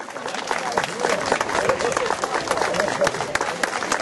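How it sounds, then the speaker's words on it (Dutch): A crowd applauding two ladies for their performance, dense steady clapping filling the space with voices mixed in. "geef ze maar de beide dames een dus mooi applaus voor hun prestatie"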